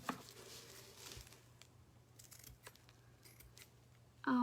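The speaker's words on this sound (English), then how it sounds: "I'll trim that burlap a little bit" Scissors trimming burlap for a reindeer names craft, a few close, quiet snipping cuts in a near-silent room, with a brief louder sound at the very end.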